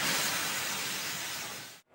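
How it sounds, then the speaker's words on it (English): A steam engine's hiss, a loud, steady rush of steam that fades slightly before cutting off abruptly near the end, with no voices. "So the fireman lit the fire and made a nice lot of steam."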